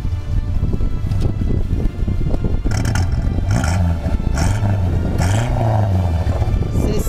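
A Renault 4L in the desert on the 4L Trophy, throttle worked by a wire, has its engine revved up and down in several rising and falling surges, loud and close under a rough idle.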